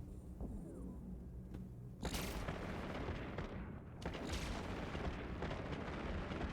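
Ship weapons fire in the space game Eve Online, with heavy booming blasts and sustained rumbling bursts in a dense, loud wash of sound, starting sparse and then running continuously.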